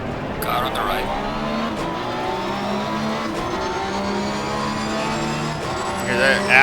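Aston Martin race car in Assetto Corsa Competizione at Monza, a continuous loud engine drone with shifting pitch as it revs through gears, other cars passing nearby and voices heard over it.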